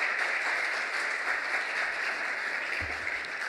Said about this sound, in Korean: 우리 목사님 모실 따뜻한, 날도 추운데 따뜻한 박수로 한번 맞이하겠습니다